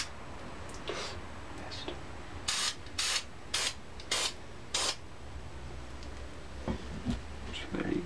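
Spray paint hisses onto a black Tippmann Alpha paintball gun in five short, close bursts of roughly half a second each, evenly spaced, with quiet handling noises before and after.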